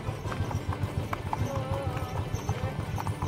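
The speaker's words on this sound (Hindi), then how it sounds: "ये ऐसे हमने आज पांच घोड़े लेके निकले आज हम सुबह सुबह संडे की मॉर्निंग राइड करने के लिए।" Five horses on a Sunday morning ride clip-clop in a steady, overlapping rhythm of close hoofbeats, with people talking over them.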